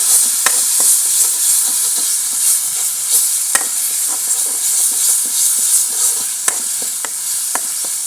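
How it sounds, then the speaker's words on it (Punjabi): Cooking oil sizzles hard in a pan over a high flame for a gravy, a loud, steady crackling hiss broken by sharp clicks and scrapes of stirring. "ਅੱਗ ਥੋੜੀ ਜ਼ਿਆਦਾ ਹੋ ਗਈ ਸੀ ਤੇ ਵਿੱਚ ਤੇਲ ਮੱਚਣ ਲੱਗ ਪਿਆ ਥੋੜਾ ਜਿਹਾ"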